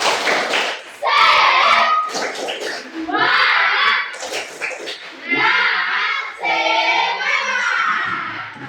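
A school class claps in rhythmic bursts for the 'tepuk semangat' cheer, the clapping mixed with children chanting together, fairly close and lively.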